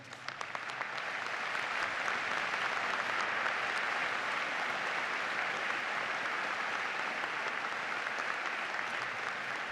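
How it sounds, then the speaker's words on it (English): An audience at a university commencement ceremony applauds the class of 1974, a dense, steady wash of clapping that swells within the first second and holds evenly, heard from within a large crowd. "may I ask the guests who represent the class of 1974 to please stand so we can all applaud them"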